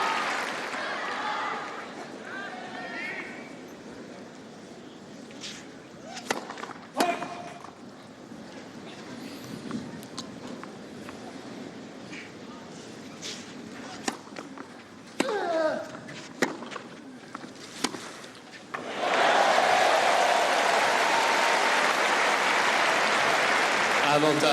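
Tennis crowd at Roland Garros during a 2009 fourth-round match, scattered claps and murmurs under a commentator's voice, building into loud, sustained applause near the end.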